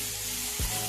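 Mung and masoor dal frying in a pan with bottle gourd, with water poured in: a steady low sizzle broken by a short, sharp hissing burst as the water hits the hot dal.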